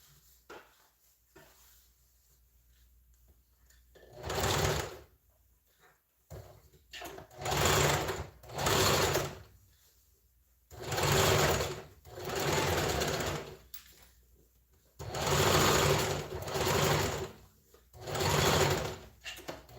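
A sewing machine restitches an Ankara bubu dress in repeated bursts of rapid mechanical clatter, each lasting one to two seconds, separated by short quiet pauses, close and fairly loud.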